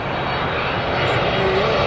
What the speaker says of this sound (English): It's the American Airlines, the 777, the big Boeing, the 300. Coming in on this beautiful November morning